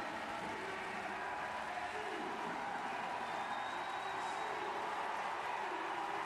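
Steady crowd noise from spectators at the London 2012 Paralympic track cycling, a men's individual C4 pursuit, a continuous moderate roar of cheering and applause with no pauses.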